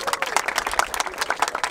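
Short burst of crowd applause at a freestyle rap battle in Barueri, brisk uneven clapping from a gathered audience, close and lively, with some voices mixed in.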